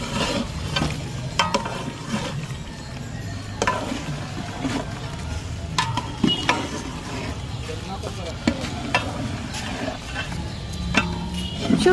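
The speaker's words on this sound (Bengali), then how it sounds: "সবজিগুলো দিয়ে ভালোভাবে নাড়াচাড়া করে মিক্স করে" A large cooking pot of beef and winter vegetables prepared for a crowd of about 250 people is stirred with steady scraping, clanking and sizzling throughout, while a voice talks over the cooking.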